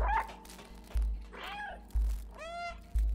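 A cat character meows three times in the video game Stray, with each clear, close meow well spaced from the next, over a soft rhythmic low thumping in the background.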